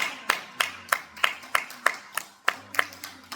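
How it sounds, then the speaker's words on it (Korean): Steady rhythmic hand clapping in unison during a church gathering, about ten sharp claps at an even beat, clear and fairly close with little else around. "박수."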